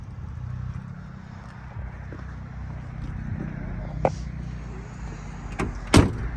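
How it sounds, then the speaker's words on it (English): Car doors on a restored 1969 Ford Mustang Mach 1 R Code 428 Cobra Jet 4 Speed shut with two sharp thuds near the end, over a quiet background hum. "Doors shut super easy."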